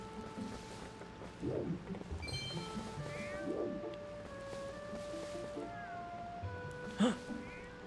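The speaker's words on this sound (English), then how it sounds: "can I not pick up this cat?" Several meows from a cat in the video game The Legend of Zelda: Twilight Princess, short rising cries spaced across the clip, with the loudest one near the end, set over steady game music and ambient water sounds.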